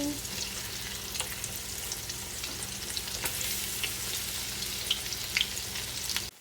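Cabbage fritters fry in a pan on medium heat, giving a dense, even crackling sizzle that carries on without pause, with small spatter pops scattered throughout.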